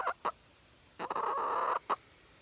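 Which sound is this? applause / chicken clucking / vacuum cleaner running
chicken clucking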